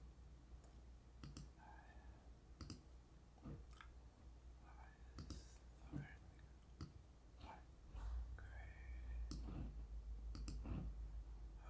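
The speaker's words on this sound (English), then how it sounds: "let's click on this." Sharp computer mouse clicks, spaced irregularly across a quiet room with a low hum, close and fairly soft, with no talking.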